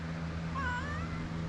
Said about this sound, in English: that's the scariest cat on the internet